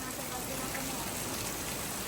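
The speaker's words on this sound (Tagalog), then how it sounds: "Ay, grabe yung ulan." Heavy rain pouring steadily as a dense, continuous hiss that fills the whole stretch, loud and unbroken.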